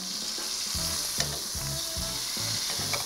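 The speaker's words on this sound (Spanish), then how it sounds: "Vamos a sellar bien esto. Vamos a dejarlo que se dore bien." Roast beef sears in a hot pan with a steady, close sizzle and spatter, punctuated by repeated soft scraping and stirring strokes.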